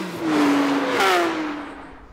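A Porsche 992 GT3 fitted with the Manthey Performance Kit revs at Hockenheim. Its engine note climbs in one loud, rising howl and then eases back, heard close with no talking.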